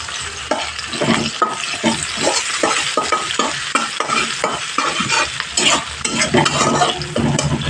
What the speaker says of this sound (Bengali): একটা বড় সাইজের পেঁয়াজ দিয়ে দিলাম দিয়ে পেঁয়াজটাকে একটু ভালো করে ভেজে নেব